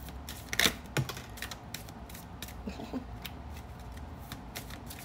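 A deck of cards is shuffled during a card reading, giving quiet scattered flicks and a couple of sharper snaps in a hushed room.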